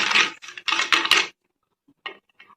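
Metal spoons are shuffled together for a kitty party game, a run of close, bright clattering clinks followed by a pause and a few lighter scattered taps.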